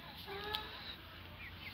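Brahma chickens clucking softly nearby in a farmyard coop, a few short faint clucks over quiet background, with no one talking.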